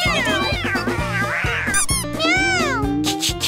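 A cat meows repeatedly and loudly up close, with drawn-out, rising and falling cries in quick succession over a rhythmic background beat.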